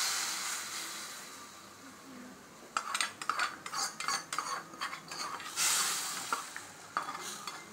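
Hot tempering poured into a simmering tamarind curry with brinjal and chickpeas, giving a burst of sizzling and crackling with sharp spoon and pan clinks, moderately loud and close, with no talk.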